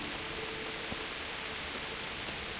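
Steady, even rainfall in the video game Kingdom Come: Deliverance, a dense continuous hiss of falling rain with no voices, holding at a constant level throughout.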